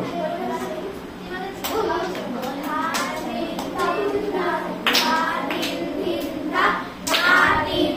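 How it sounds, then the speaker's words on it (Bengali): Hand claps keep the tala in a children's music class, sharp taps recurring through steady classroom chatter and children's voices. "আগে তালটা হাতে দেখিয়ে দে"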